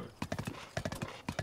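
Horse hooves clip-clop in quick galloping triplets in Zelda: Breath of the Wild, crisp and close, three short bursts of rhythmic hoofbeats.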